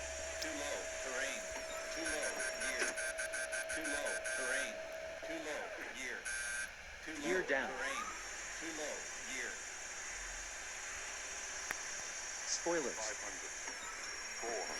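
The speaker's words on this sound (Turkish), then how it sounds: "Alarm verip duruyor." A repeating electronic cockpit warning alarm in the flight simulator game RFS Real Flight Simulator pulses in rapid beeps under someone talking continuously during a landing approach.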